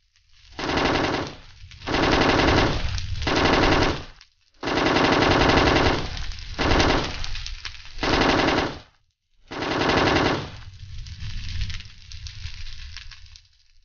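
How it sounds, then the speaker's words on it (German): Long bursts of rapid automatic gunfire, loud and close, separated by brief pauses, from Minecraft game combat with no voices. "Daniel, knall den Psycho ab!"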